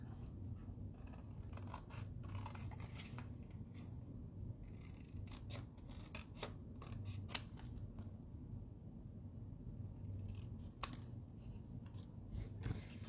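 Scissors snipping through paper card while making a small Stampin' Up! 3x3 card: faint, close cutting strokes in irregular short runs over a steady low background hum.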